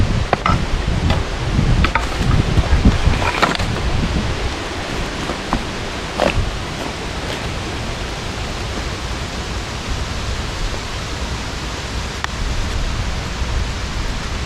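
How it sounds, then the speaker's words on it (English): Strong wind sweeps across an outdoor bushcraft camp on a very windy day, a loud continuous rushing roar with low gusty rumble and occasional rustling crackles. "Very windy day."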